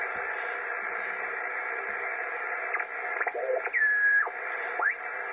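Ham radio receiver on the 160-meter band plays tones caused by power supply oscillation: a steady band of static hiss with a few brief whistling tones that bend and sweep near the end.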